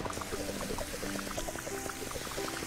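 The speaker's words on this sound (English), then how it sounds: "suck up some water" Steady watery rushing from a cleaning simulator video game as water is sucked up, continuous and even throughout, laid under light tonal game music.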